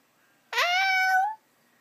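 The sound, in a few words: toddler imitating a cat's meow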